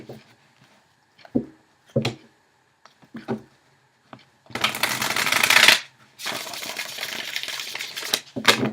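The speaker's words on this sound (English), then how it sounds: "let's go ahead and shuffle and invoke" Tarot cards being shuffled: a few scattered soft flicks and taps, then two longer, dense bursts of riffling close by, with no talking.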